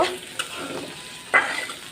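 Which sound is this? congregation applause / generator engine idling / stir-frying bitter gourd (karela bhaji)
stir-frying bitter gourd (karela bhaji)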